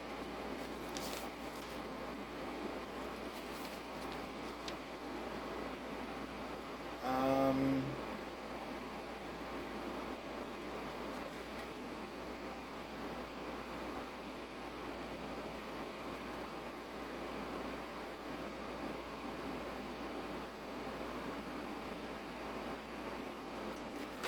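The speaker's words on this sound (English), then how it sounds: "Sorry for the noise, that's my air conditioner if you've not figured that out." A room air conditioner running as a steady, faint broadband hum and hiss throughout, with a brief louder tonal blip partway through.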